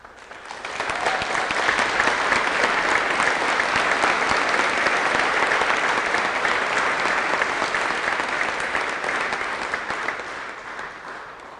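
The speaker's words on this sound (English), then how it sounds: "Ladies and gentlemen, a round of applause for Cadet Lieutenant Commander Christian Sch" An audience at a school NJROTC change of command ceremony applauds steadily, a dense sustained clapping that swells quickly, holds for about ten seconds, then begins to fade.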